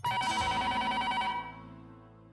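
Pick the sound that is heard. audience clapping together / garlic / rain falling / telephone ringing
telephone ringing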